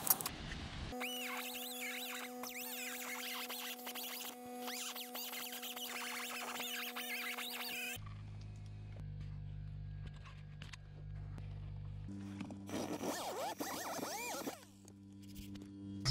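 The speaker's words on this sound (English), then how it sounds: "this is gonna be attempt number one with the whiz wheel" Whiz wheel (cutoff disc) cutting into the steel firewall of a Subaru WRX, a steady high-pitched grinding whine that runs throughout with shifting tone as the tool changes pitch and load, no talking.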